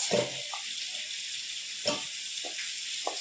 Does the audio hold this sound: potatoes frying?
yes